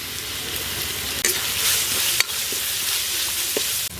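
Onions, green chillies and ginger garlic paste fry in a pan for country chicken curry, a steady close sizzle with a few sharp spoon scrapes and clicks against the pan.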